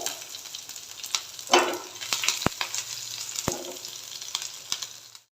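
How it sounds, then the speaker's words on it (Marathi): Chopped garlic, ginger and green chillies frying in hot oil for tomato rice, a steady close sizzle broken by sharp spoon taps and scraping stirs, with no voice over it. "पाच ते सहा लसणाच्या पाकळ्या थोडंसं अद्रक आणि दोन हिरवी मिरची बारीक चिरून घेतली आहे ते देखील तेलावर एक ते दोन मिनटं परतून घ्यायचं आहे"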